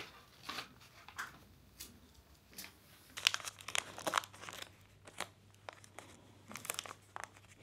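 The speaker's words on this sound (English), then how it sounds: "I just try to use some paper to put these ones into wrapping paper" Wrapping paper crinkles and rustles in short, irregular bursts while an order of small-business products is packed, close and fairly quiet, with a few sharper crunches in the middle and no talk.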